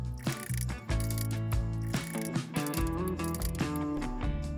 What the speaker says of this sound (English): now we'll use a wire brush just to clean up the hub so it can be ready for the new rotors